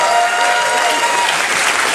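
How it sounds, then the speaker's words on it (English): Audience applause at a cruise ship concert, a dense, steady wash of many hands clapping at full volume for the whole stretch, with crowd noise mixed in. "So thank you for applauding my advertisement."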